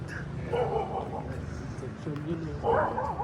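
A dog on a street in Lipa, Batangas gives a few short barks and yips, moderately close, mixed in with people talking nearby.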